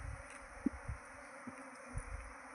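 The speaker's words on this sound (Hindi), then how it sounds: "ये देखो नज़ारा मधुमक्खियों का, ये ऊपर से उड़ उड़ के आ रही है सारी सारी" Honey bees swarming out of hive boxes in an open village setting, a faint, steady insect hum with a few brief buzzes passing close to the microphone.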